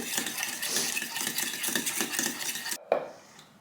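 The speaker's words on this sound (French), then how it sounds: "je reviens mélanger pour que ce soit bien homogène" Spoon or whisk scraping and clinking around a bowl as milk is stirred into a mixture until smooth, a steady near scraping rhythm that stops abruptly near the end, followed by a brief clink.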